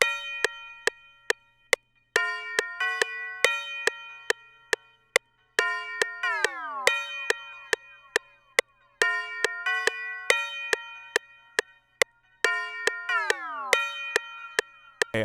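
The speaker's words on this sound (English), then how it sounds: "It is a yeet bell, the tubular bell with some reverb" A tubular bell with reverb and flanger: bright metallic strikes repeat in a steady rhythmic pattern, ringing with reverb, with occasional sweeping, swooshing pitch bends between phrases.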